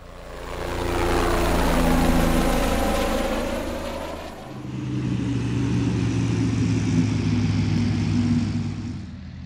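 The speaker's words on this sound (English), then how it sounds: "Tractor." A tractor engine runs steadily and loudly up close, a deep rumbling drone that dips briefly midway and then carries on at a similar level, with no voices.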